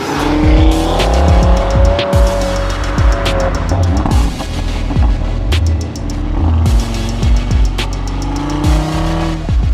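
An Audi RS3 five-cylinder engine roars loudly and continuously through winding bends, revving up and down through gear changes, echoing off trees, with brief tire squeals under the steady growl.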